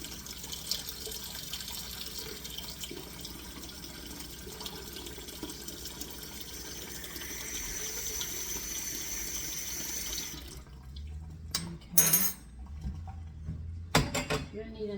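Water runs from a kitchen faucet in a steady splashing stream for about ten seconds, then cuts off, followed by a few brief knocks and clinks.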